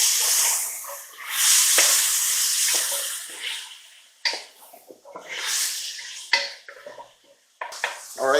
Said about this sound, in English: Alright, so our vegetables have been sauteing for about 5 minutes.